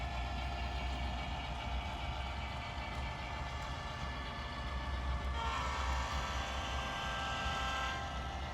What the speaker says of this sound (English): after the train passes under the overpass